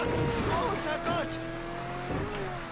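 Car skidding in the Mafia 3 video game, with sliding tire squeal over a steady engine roar, continuous and loud for a few seconds, while a person talks over it.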